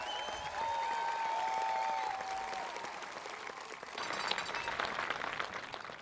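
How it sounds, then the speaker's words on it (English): Graduating class of 2023 receives a sustained round of audience applause at a high school commencement ceremony, dense clapping throughout that thins slightly midway before swelling again, with a few whistle-like tones early on. "let's give the class of 2023 another round of applause"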